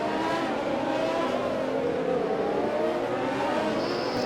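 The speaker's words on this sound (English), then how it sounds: "Here comes the Ferrari." Ferrari race car in a racing video game at Abu Dhabi, its engine droning steadily and loud throughout with a sustained high whine, no pause in the sound.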